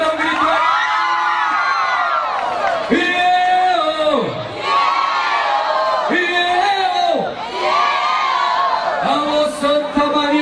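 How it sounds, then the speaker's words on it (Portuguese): A large crowd at a live show in Santa Maria de Itabira, Brazil, shouts a loud rhythmic chant in unison, the short repeated calls rising and falling in waves. "Quem gostou, bate palma e dá um grito."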